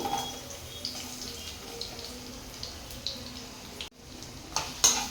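Sliced onion sizzles in hot oil for a prawn curry, a steady crackling hiss with small pops, briefly cutting out near the end before resuming.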